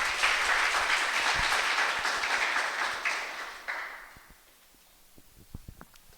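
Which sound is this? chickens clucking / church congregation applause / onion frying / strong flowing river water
church congregation applause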